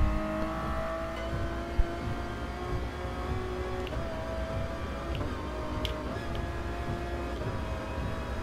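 Race car engine in Gran Turismo Sport, a continuous droning roar at steady speed with a brief knock partway through, moderately loud and alone without talk.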